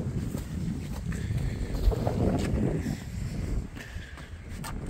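Wind buffets the microphone with low rumbling gusts throughout, steady and close, with faint background noise and no clear talk.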